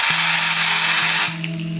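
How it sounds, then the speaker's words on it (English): Aerosol hair spray hissing onto a lace wig, a steady close spray lasting just over a second before it cuts off, leaving a faint background hum. "stand kind of far back too as well when you're spraying it."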